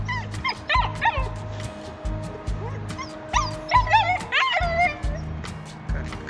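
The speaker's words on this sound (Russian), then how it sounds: "Вот она, самая злая собачка" Wet, cold dogs yip, whimper and bark in short bursts close by, over a steady rhythmic low throb, with a person talking now and then.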